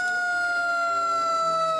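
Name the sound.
fire engine sirens in a parade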